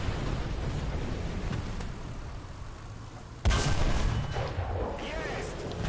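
Enemy gunfire in a shooter game aimed at the player, a sudden loud burst of shots breaking into steady background noise, with a dense rumbling crackle afterward.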